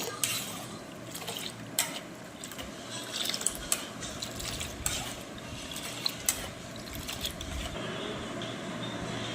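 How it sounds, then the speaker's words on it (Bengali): Milk for homemade sour curd is lifted with a spoon and let fall back into the pot, giving soft repeated liquid splashes and clinks in a steady rhythm, close and fairly quiet, with no talking. "দুধটাকে ওপরের দিকে তুলতে হবে এবং ছাড়তে হবে।"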